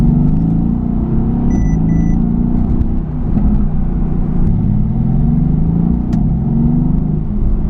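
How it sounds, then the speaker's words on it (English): A Mercedes-AMG GT S V8 exhaust rumbles loud and close, burbling with rising revs and brief crackles, a thick continuous roar with no voices. "You get a fantastic AMG exhaust note that really does sound like thunder"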